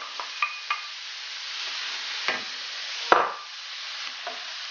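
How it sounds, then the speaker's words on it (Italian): Chopped prawns, salmon and clams sizzle softly in a pan and are stirred with a few sharp scraping clicks. Frying hiss stays steady under the stirring. "aggiungiamo le mazzancolle tritate e il salmone aggiungiamo anche le vongole"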